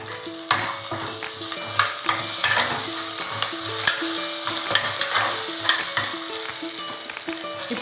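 Curry leaves sizzling and crackling as they fry in hot oil for spicy dhaba-style tomato rice, with steady frying hiss and stirring taps throughout, close and fairly loud, no talking.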